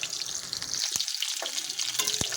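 New potatoes frying in oil left over from browned chicken, a steady close hiss of sizzling with a few brief stirring knocks, no talk.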